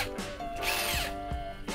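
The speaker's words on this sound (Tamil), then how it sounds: "நார்மலாக இந்த சின்ன ட்ரில்லிங் மிஷின் நம்ம வந்து போட்டுக்கலாம்." A small electric drilling machine with a 3/4 inch bit whirs in short bursts, its whine rising and stopping several times close by, used while fitting a 1000 litre three-layer overhead plastic water tank.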